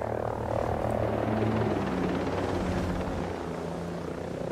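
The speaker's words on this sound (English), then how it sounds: "That's a Russian helicopter." A Russian helicopter in a military video game beats steadily and loudly overhead, its rotor throb holding constant throughout with no voices heard.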